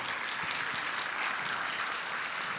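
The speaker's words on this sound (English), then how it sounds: "can you all please offer yourself a big clap, USAS style" Conference audience applauding together, a dense, even wash of clapping that holds steady at moderate loudness throughout, with no voices standing out.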